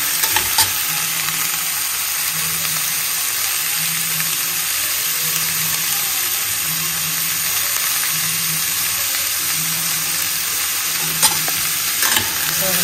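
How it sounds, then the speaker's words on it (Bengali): Vegetables fry in a pan, a loud, constant sizzle close by while a spoon stirs in a steady rhythmic scrape throughout, with no talking. "সবজিগুলো ভেজে নিই।"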